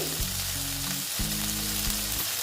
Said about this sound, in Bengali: ঢেঁড়সটা আস্তে আস্তে করে ভেজে নিয়ে তারপরে আমার মশলাটা দিতে হবে